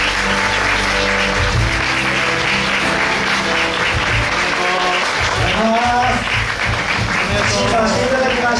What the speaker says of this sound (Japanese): 改めまして見事枠を勝ち取った3チームに大きな拍手をお願いいたします